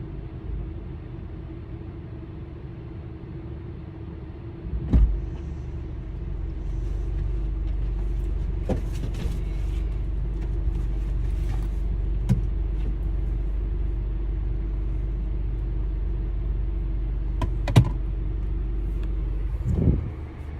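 A tuned-up Chevy car rolls along the road with a low, steady engine rumble from inside, with a few soft thumps and knocks now and then.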